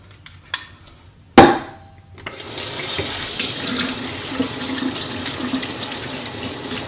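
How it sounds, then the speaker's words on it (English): A kitchen tap is turned on with a clunk, and water runs steadily into the sink for hand washing, a constant hiss that follows a few small knocks. "we still are gonna wash our hands."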